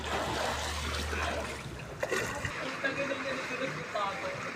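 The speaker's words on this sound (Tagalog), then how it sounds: "Oh, bilis ng agos." Fast-flowing waist-deep floodwater streaming past, a constant broadband rush of moving water heard close up, with a person speaking over it partway through.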